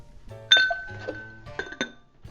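A couple of ice cubes clink against the metal of a cocktail shaker holding Rock and Rye ingredients, a few bright, close, distinct clinks with short ringing tails, with no talk.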